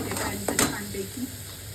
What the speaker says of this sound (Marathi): चांगलं परतून घ्यायचं आहे तेल सुटेपर्यंत छानपैकी